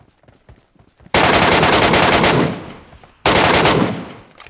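Automatic gunfire in PUBG Mobile, two sustained bursts of rapid, loud shots, the first about two seconds long and the second shorter after a brief gap, close and harsh with no talking.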